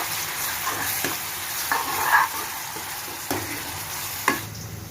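Tomatoes going into onions frying in oil for paneer bhurji, with a steady sizzle and a few soft stirring clicks and scrapes of a spoon in the pan, close and fairly quiet, no talking.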